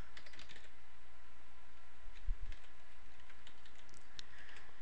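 Steady typing on a computer keyboard while a console command for a Garry's Mod dedicated server is entered, with quick close key clicks running throughout and a slightly heavier tap cluster near the middle.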